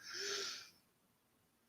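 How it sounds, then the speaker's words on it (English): A single breathy cough sounds close but fairly faint, a short rasping burst that fades into near silence. "Wow, there we go again. That cough."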